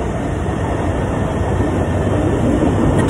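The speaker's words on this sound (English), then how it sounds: "The train says hello." A train passes close by, its loud steady rumble and wheel clatter filling the whole moment without any voices.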